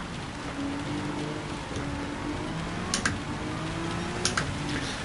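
Pouring rain at the Nürburgring in Gran Turismo 7 patters steadily and densely throughout, with a low engine drone underneath and a few sharp clicks near the end.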